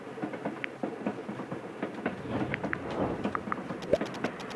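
A passenger train runs in the video game Little Witch in the Woods, with a continuous rumbling, clattering ride and scattered light clicks and knocks throughout.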